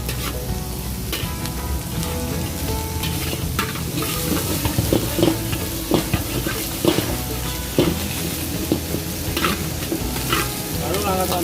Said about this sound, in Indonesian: tumis sayur.